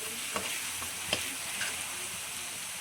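Ginger paste frying in hot oil, a continuous close sizzle with a few soft scraping stirs of a spoon through the pan.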